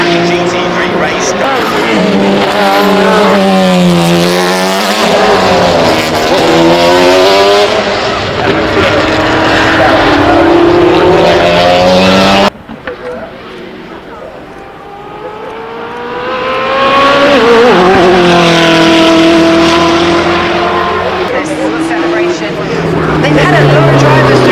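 An all-new Ford Mustang GTD supercar blasts up the hill at a festival of speed, its engine note climbing through gears in rising sweeps, loud and close, cutting briefly before another surge, with a commentator talking over it.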